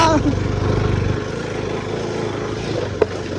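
A motorbike on an off-road ride, heading to a waterfall on a slippery trail, drones steadily with low engine rumble and wind buffeting throughout, one brief knock near the end.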